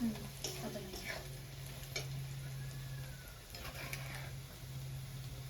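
Boiled potato stirred into a spiced pan for burger filling, with a soft continuous sizzle, a steady low hum and a few light scraping strokes, close but quiet.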